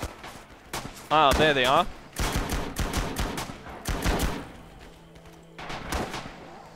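Battlefield gunfire in the video game Rising Storm Singapore, with Australian forces and a Bren gun: a string of sharp, loud shots and short bursts at uneven intervals, mixed with a brief whistling tone, while someone talks briefly over it.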